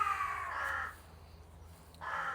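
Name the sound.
crows cawing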